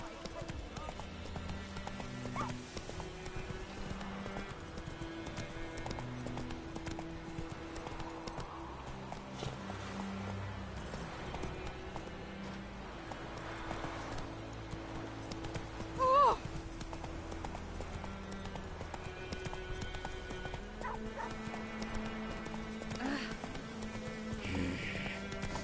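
Horse hooves in The Witcher 3 video game, a steady clip-clop of galloping running through the whole stretch alongside game music, with a voice speaking over it.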